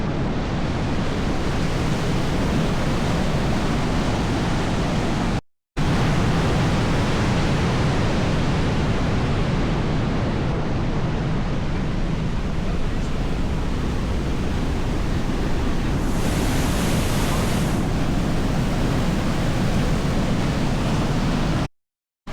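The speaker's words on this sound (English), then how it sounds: "Even if the water is, even here, it's like rapids." Steady, dense roar of rushing water over a stepped, staircase-like channel in Tashkent, Uzbekistan, loud and continuous, like churning rapids, with a brief cut partway through.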